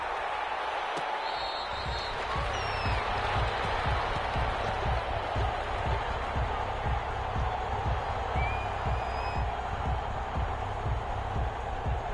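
Stadium crowd noise in an American football video game on PS4, Dallas Cowboys against Minnesota Vikings, a steady roaring murmur with a rhythmic low thumping underneath, continuous throughout.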